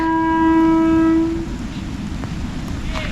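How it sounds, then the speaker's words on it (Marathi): A loud train horn blares for about a second over rumbling rail noise, then the steady roar of the passing train continues. "ती बघा ट्रेन आली एक"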